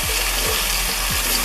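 Potatoes and sausages fry in a hot pan with a steady, loud, dense sizzle, with faint stirring scrapes but no talk.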